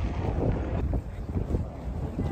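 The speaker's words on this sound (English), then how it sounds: "It's a bit windy today, I hope you can hear me." Steady wind buffets the microphone with a constant low rumble and roar, no voices.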